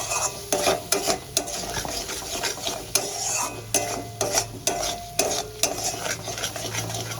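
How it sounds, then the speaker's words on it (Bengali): Spices with red and Kashmiri chili powder stir-fried in a pan for an egg and potato curry, with repeated sharp scrapes and clinks of a utensil against metal over a soft continuous sizzle, close and fairly loud. "মশলাটাই একটু ভালো করে কষাতে হবে"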